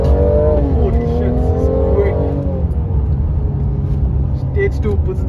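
A Stage 2 tuned 450 hp Mercedes-Benz GLC43 AMG accelerates hard, its engine roaring loud and continuous as the pitch climbs through the gears from inside the cabin, with talk underneath.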